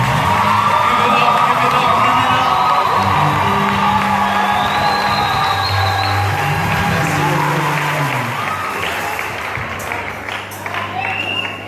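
A loud, dense crowd at an ordination ceremony cheers, whoops and applauds continuously, with shouts rising over a steady roar of claps and voices filling the hall close by.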